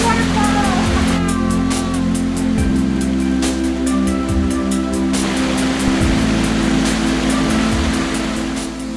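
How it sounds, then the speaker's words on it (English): Steady, dense rush of a waterfall near Jerantut, Pahang, Malaysia fills the scene, a constant loud roar with no pauses, some low rumbling mixed underneath. "is there anything better than the noise of a waterfall?"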